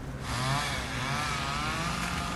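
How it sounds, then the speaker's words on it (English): A chainsaw gives a sustained, loud, rough buzzing whine that holds steady from start to finish, with no voices. "and then the chainsaw squealed."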